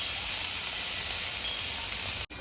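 Vegetables for a Gujarati shaak sizzle in a hot pan with a steady close hiss that holds evenly and then cuts off abruptly near the end.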